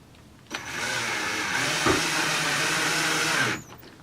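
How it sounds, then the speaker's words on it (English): A power drill drives a screw into a door hinge in one continuous whirring burst of about three seconds, close and loud, starting and stopping abruptly. "Oh, Dad's gonna use a drill"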